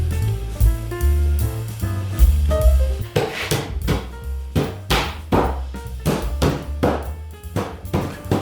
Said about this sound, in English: pick up the mallet and start driving the treads home